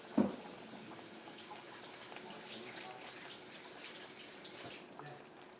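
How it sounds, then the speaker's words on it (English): Tap water runs steadily into a sink while hands are rinsed, a soft continuous splash after an initial bump, with faint talk in the background. "Let me quickly rinse my hand."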